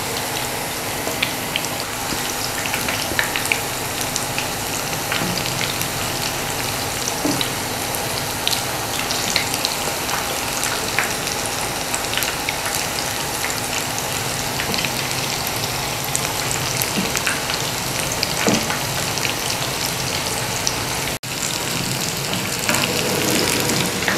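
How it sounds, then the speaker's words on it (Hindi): Fish pakoras deep frying in oil make a constant, even bubbling hiss, like rain on a surface, with scattered small pops, close and unbroken for about twenty seconds, without speech. "5-6 मिनट हमने इसको फ्राई करना है।"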